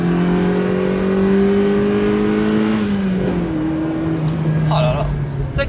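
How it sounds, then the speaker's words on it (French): A Mazda MX-5 NBFL engine revs hard as it accelerates toward 7000 rpm, its pitch climbing steadily and then dropping at a gear change before rising again, loud and close. "Là, on va mettre un petit coup d'accélération."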